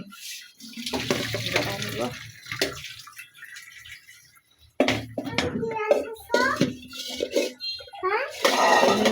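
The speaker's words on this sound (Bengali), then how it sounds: "পানি ঝরায়" Water drained off a pot of boiled potatoes in a home kitchen, splashing in uneven pours and bursts close by, with people talking over it.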